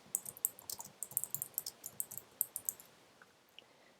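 Typing on a computer keyboard: a rapid, even run of light plastic key clicks lasting about three seconds, close up and fairly quiet, then stopping.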